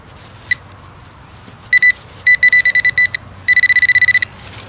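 Metal detector giving a mixed signal over a buried target, loud, sharp electronic beeps in rapid bursts after a single early chirp, with quiet pauses between the groups, no talking.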